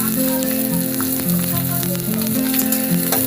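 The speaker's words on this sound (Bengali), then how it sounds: "তেজপাতাটা একটু ভাজা হয়ে গেলে দিয়ে দিচ্ছি পেঁয়াজ" Onion sizzles in hot oil with a bay leaf, a continuous close crackling fry with a faint steady tone humming underneath.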